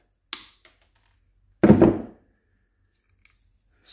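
Welding wire for a Harbor Freight Titanium Flux 125 welder is snipped off the spool with a cutter, leaving a sharp click followed by a louder, brief crunching snip in a quiet room.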